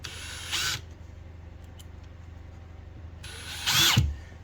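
Power drill driving screws into a wooden shim behind a drywall patch: two short, sharp whirring bursts about three seconds apart, close by, with near silence between and no talking.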